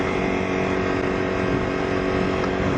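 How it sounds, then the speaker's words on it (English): A motorcycle engine runs at close range, a loud steady drone that holds constant throughout without breaks or voices. "This motorcycle has been my only vehicle for the last 4 years."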